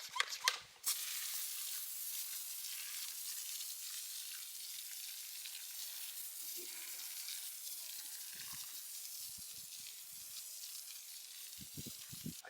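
An IK hand pump sprayer mists wheel cleaner onto a car's front wheel during a wheel cleaner comparison, giving a steady close hiss that runs nearly unbroken after a brief start, with a few faint handling knocks near the end.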